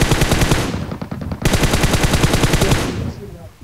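Rapid automatic gunfire in the game BGMI rattles almost continuously, loud and close, with a brief thinner stretch before a fresh burst, in a game-like soundscape.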